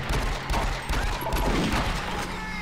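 Rapid gunfire in Doom 3: a dense flurry of loud shots and impacts over a low rumbling game soundtrack.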